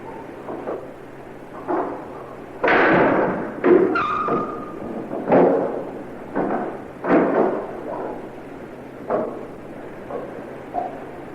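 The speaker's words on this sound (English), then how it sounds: "we recorded the sound of it opening a door, but a door which doesn't exist" Muffled thumps and bumps in a house, with a brief creak, sound out at intervals over steady background hiss, recorded on a cassette machine.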